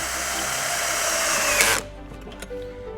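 Power drill driving a self-tapping screw down into an aluminum railing, a loud close whine that holds steady then cuts off abruptly, followed by faint clicks and handling noise.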